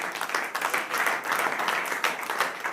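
A church congregation applauds in a quick, dense patter of many hands clapping, moderately loud and sustained without a break.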